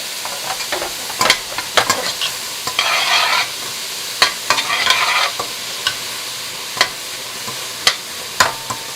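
Vegetables soften in a hot pan with broth, giving bursts of loud sizzling and hiss between repeated sharp clacks and scrapes of a utensil stirring, close by with no talking.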